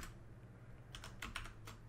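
A password typed on a computer keyboard during a login: a short, quick run of soft key taps over a low steady hum, with no voices.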